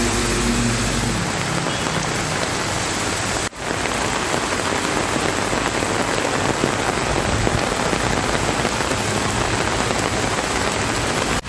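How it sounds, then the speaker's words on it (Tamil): Heavy rain pours steadily on a surface in the Kanchipuram area towns of Urakadam, Walajabad and Uthiramerur: a dense, loud, unbroken hiss that drops out for an instant near the start and then continues just as strongly. "1 மணி நேரத்திற்கு மேலாக கனமழை கொட்டியது"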